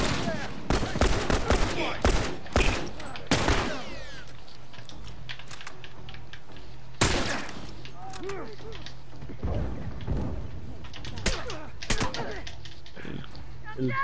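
Gunfire in a video game: bursts of shots and broadband blasts ring out in irregular clusters, loud and close, while players talk excitedly over the action.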